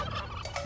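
A turkey in the video game Age of Empires II gives a brief, close, warbling gobble, heard alone.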